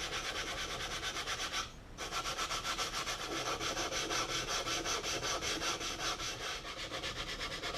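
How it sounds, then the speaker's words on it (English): Hand sanding rubs along the grain of the lacquer finish on a 1957 Silvertone Companion guitar body, a steady close rasping stroke repeated in an even rhythm with one brief pause and no voices. "I'll go back and sand with the grain"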